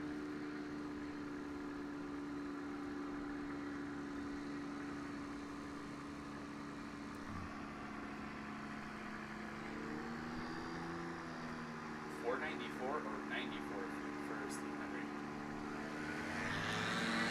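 A STOL bush plane's engine rises into a steady droning hum at the start of its takeoff roll at a mountain competition, heard from a distance. Background crowd noise and a faint voice run underneath.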